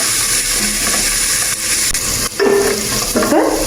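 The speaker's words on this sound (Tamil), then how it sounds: "நான் வந்து லைட்டாக எண்ணெய் விட்டு பட்டரும் போட்டிருக்கேன். நல்லா வதங்கும் வரைக்கும் நல்லா மிக்ஸ் பண்ணி விடுங்க." Vegetables are stirred in a pan of oil and butter for egg fried rice, with a steady loud sizzle throughout. A spoon scrapes and clatters against the pan in a few brief bursts.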